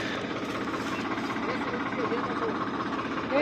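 A tractor engine runs steadily during a millet harvest on a farm, a continuous broadband rumble that stays loud and even throughout, with a voice talking over it.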